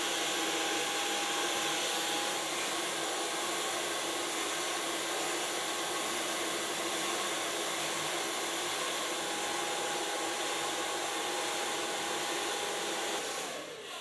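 A hair dryer blowing a short, boyish haircut dry in a salon, a loud, steady close-up whoosh with a faint whine that runs unbroken for the whole stretch before cutting off at the end.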